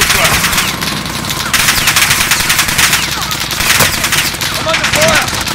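Dense automatic gunfire in the Call of Duty Warzone video game, with loud overlapping bursts running almost continuously and a few distinct single shots mixed in.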